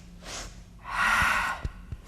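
Two quick nasal sniffs followed by a long, breathy exhale during a roller flow workout, with a couple of short sharp sniffs closing the clip; close and fairly loud, no speech.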